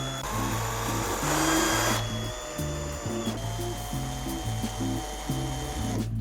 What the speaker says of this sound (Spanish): Voy a coger unas brocas, un par de tornillos y el taladro y vamos a hacerle los agujeros aquí